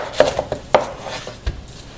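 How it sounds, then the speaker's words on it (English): A knife chops down through the bottom of a pineapple onto a cutting board, making several short, sharp knocks close by, with one duller thud near the end. "I will also make a cut through the bottom of the pineapple."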